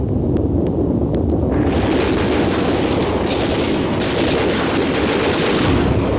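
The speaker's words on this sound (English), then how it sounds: "the artillery unleashed yet another final bombardment on Smokeshell" An artillery bombardment of the Smokeshell base area rumbles on as a dense, continuous roar of blasts, loud and sustained, with the rolling thunder thickening partway through.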